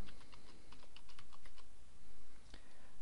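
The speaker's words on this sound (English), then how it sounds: "You type in the database name" Typing a database name on a computer keyboard gives a quick run of close, crisp key clicks, a short pause, then a single louder keystroke, with no talking.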